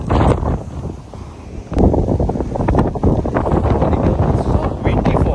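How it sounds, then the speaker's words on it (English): Strong wind gusts outdoors at a coastal lookout batter the microphone in loud, uneven roaring bursts, with rustling and brief talk mixed in. "So windy, folks"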